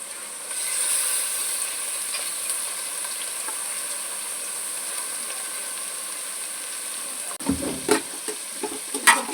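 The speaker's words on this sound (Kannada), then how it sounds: "1 kg ಅಷ್ಟು ಚಿಕನ್ ಹಾಕ್ತಾ ಇದ್ದೀನಿ." About a kilogram of chicken frying in a pressure cooker over onions and oil, giving a steady close sizzle and hiss, then a burst of clattering scrapes and knocks as the pieces are stirred near the end.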